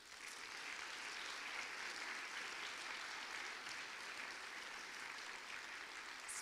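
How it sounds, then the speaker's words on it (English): Steady, dense applause from a spelling bee audience honoring the spellers, a continuous wash of many hands clapping at moderate distance with no breaks across the whole stretch. "let's give the spellers one more round of applause"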